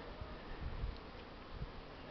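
Honeybees buzz around hives on a warm, sunny early-spring day in southern Belarus, a faint low steady drone with a few closer passes swelling briefly.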